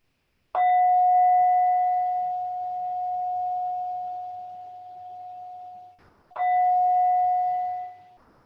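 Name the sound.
mindfulness bell ringing to close the practice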